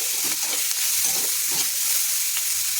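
Taro and potato frying in a pan, a continuous close sizzle and hiss with soft stirring rustles throughout.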